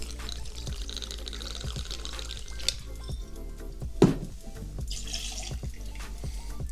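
Two ounces of Stillhead's Rye Whisky are poured into a glass for an Old Fashioned cocktail. The pour is a soft, close trickle with a few drips and a single small clink.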